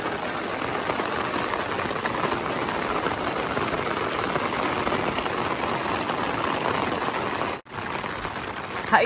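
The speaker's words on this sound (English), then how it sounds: "Hiking in the rain." Steady rain falls during a hike on the Pinhoti Trail, with a dense, even hiss of drops close by that cuts out for a split second near the end before resuming.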